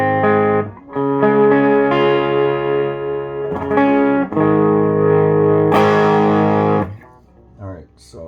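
Gritty, overdriven electric guitar chords ring out one after another through a cranked Ceriatone 36RP 18-watt Marshall plexi-style tube amp, each sustaining before the next.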